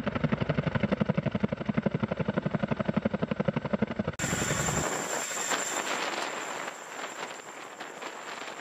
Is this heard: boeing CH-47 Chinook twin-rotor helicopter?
yes